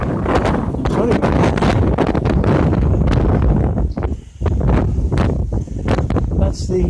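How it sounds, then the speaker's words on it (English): Heavy wind buffets the microphone almost continuously on a blustery village street, a loud low roar with a brief lull midway, while someone speaks over it. "The wind is drowning out."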